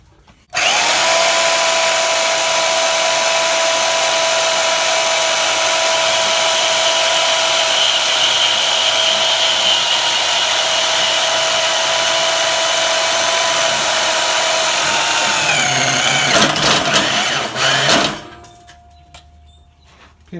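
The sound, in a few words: Bauer portable bandsaw from Harbor Freight cutting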